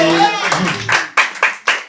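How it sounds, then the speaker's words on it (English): A comedy club audience claps at a live stand-up show, starting amid a voice and murmur, then swelling into several loud, sharp bursts of applause. "Clap for them."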